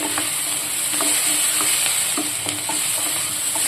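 Pieces of ripe bitter gourd, seeds included, fry with onion in oil, producing a loud, unbroken hiss with faint, irregular stirring taps underneath.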